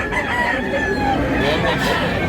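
A yellow-legged rooster for sale at a market in Tabunok, Cebu crows in one continuous call, close and loud over busy background noise and faint voices.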